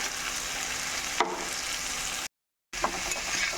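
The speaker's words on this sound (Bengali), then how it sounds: "আলু আর ছোলার ডাল এক মিনিটের মতো একটু নাড়াচাড়া করে কষিয়ে নেব" Potatoes and boiled chana dal with spices frying and being stirred in a pan for a Bengali vegetarian curry, a steady close sizzle with a brief scrape partway and a short dropout of silence before the frying resumes.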